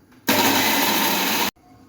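A kitchen mixer grinder whirs through a dry spice mixture for a traditional Bhogi vegetable dish, a single loud, steady burst of just over a second that starts and stops abruptly.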